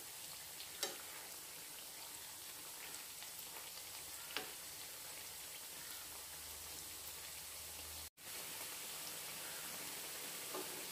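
Sprouted green gram vadas frying in hot oil make a soft, continuous sizzle and fine crackle with a few small pops, heard alone and fairly faint, with a brief dropout near the end.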